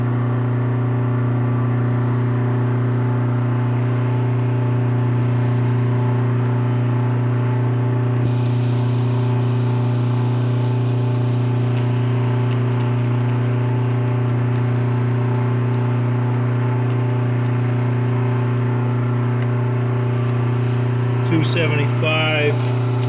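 A Bauer brake test stand runs in low manual mode with a steady mechanical hum and whir that holds level throughout, while someone speaks over it, plus a brief rattle near the end.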